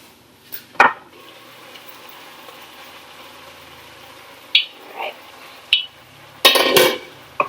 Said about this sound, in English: take the lid off of this and check it and see what it's starting to look like